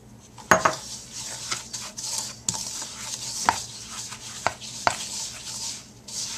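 Butter and a cup of sugar being mixed in a bowl for cranberry cake batter, with sharp, irregular clinks and scrapes of a utensil against the bowl over a soft background and no speech.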